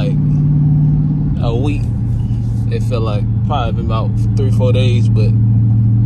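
Dodge Hellcat engine with a mid-muffler delete, a deep steady idle rumble running throughout, loud and close, while someone talks over it.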